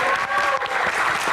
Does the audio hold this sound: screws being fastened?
no